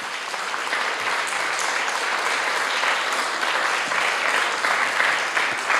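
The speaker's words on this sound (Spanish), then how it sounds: "Eso merece, la verdad, un fuerte aplauso para el Rey." An audience at a church service breaks into loud, sustained applause, a dense, even roar of many clapping hands that holds steady throughout with no voice over it.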